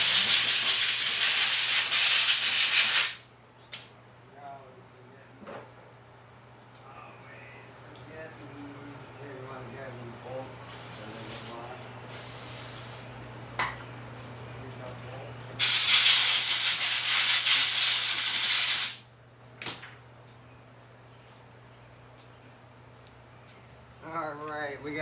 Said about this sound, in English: I'm gonna spray them real quick